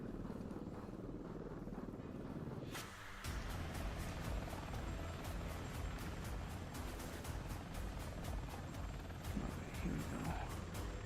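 Helicopter from a PS4 helicopter shoot 'em up game, a steady loud rotor and engine drone that swells sharply after a few seconds and then holds, with dense mechanical clatter throughout.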